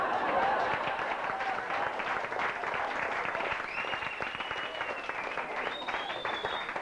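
An audience at a 1983 birthday gathering applauds a joke, a continuous ripple of clapping with faint voices mixed in, lasting several seconds.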